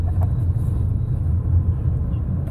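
A car driven slowly by a learner driver on a local road, giving a steady low engine rumble throughout, close and continuous, with no talking.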